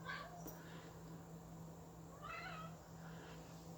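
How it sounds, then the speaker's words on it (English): A house cat meows softly in the background, two faint drawn-out cries about two seconds apart under a steady electrical hum. "And you're hearing my cat meowing in the background."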